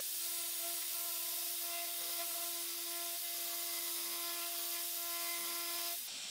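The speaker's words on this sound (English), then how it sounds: "I'll round all the corners using the same bit with this radius jig." Router fitted with a roundover bit rounding the corners of a desk along a radius jig; a steady high whine runs for about six seconds, close and fairly loud, then cuts off abruptly.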